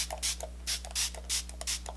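Several short bursts of a Fix Plus setting spray misted onto the face, each a soft hiss of about a quarter second repeating in an uneven rhythm, close and fairly quiet over a steady low hum.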